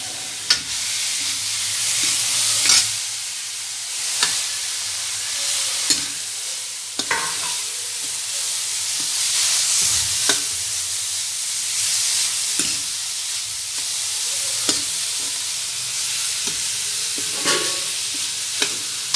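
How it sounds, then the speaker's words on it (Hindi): Onion, green chilli and cabbage fry in hot oil in a kadhai with a constant close sizzle and hiss, broken by regular sharp scrapes and taps of a spoon stirring, with no talking. "एक कढ़ाई में तेल गरम करके पहले प्याज है, हरी मिर्च है, और पत्ता गोभी है,"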